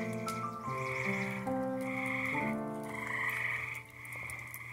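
A chorus of frogs croaks steadily at dusk outdoors beside a wood cooking fire, with layered overlapping calls running continuously and nobody speaking.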